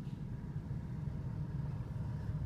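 An Oldsmobile Delta 88 idles just after its first start-up of the year, air conditioning compressor engaged, giving a quiet, steady low engine rumble with faint uneven pulsing, heard alone at low volume.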